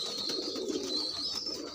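A young pigeon, still with pin feathers, makes soft, low cooing sounds up close, a short murmuring burst with faint higher chirps above it.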